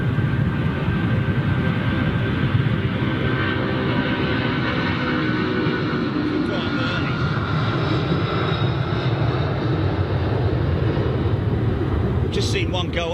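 A departing jet airliner roars steadily at a distance, a broad continuous engine rumble that holds for the whole stretch.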